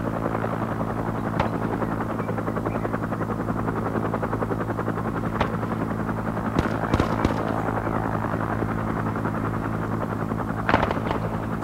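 In Arma 3 with the Vietnam DLC, a helicopter drones steadily while a few sharp bangs and blasts cut through as it is blown up.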